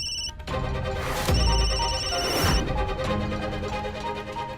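A telephone rings at a family home as a hospital calls, the electronic ringtone repeating clearly over a musical drama score with no talking.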